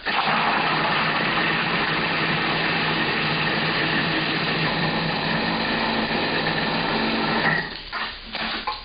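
A food processor blitzes a chilli paste made with dried chilli, a steady loud high-pitched motor whir that runs continuously before cutting off and winding down near the end.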